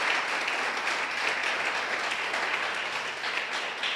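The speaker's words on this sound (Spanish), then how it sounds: "Dale un aplauso al Señor" Steady applause from a church congregation, a dense wash of clapping that holds evenly for the whole stretch with no voices above it.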